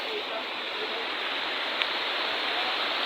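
Flowing water from a forest stream, a steady broad rush that holds level without pause for the whole stretch, close and fairly loud, with no clear voices over it.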